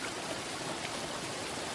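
A river stream flows steadily, a continuous close wash of running water with no voices over it.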